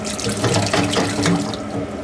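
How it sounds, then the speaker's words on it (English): A kitchen tap runs steadily into a sink while a roast goose dinner is prepared, a continuous broad splashing rush of water with faint clinks, close and fairly loud throughout. "hot water first and then cold water, and then refresh it with cold water"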